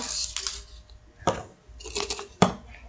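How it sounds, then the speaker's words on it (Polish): Plastic surprise egg being cracked open by hand, with several sharp snapping clicks and rustles, close and fairly quiet, no talk. "Szybko otworzę pierwsze jajko."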